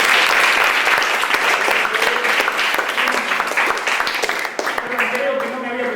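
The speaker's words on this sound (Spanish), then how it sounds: "Un aplauso, ¿no? Por nuestro invitado." An audience at a university visual arts faculty applauds a guest speaker, a loud, dense burst of many hands clapping that runs steadily and thins toward the end, with a voice speaking faintly beneath it.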